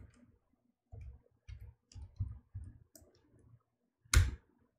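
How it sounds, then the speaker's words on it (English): A run of soft clicks from keys being pressed on a computer keyboard, including the Windows key and the period key, ends in one sharper, louder keystroke. "I have inserted it pressing Windows key and the period on my keyboard"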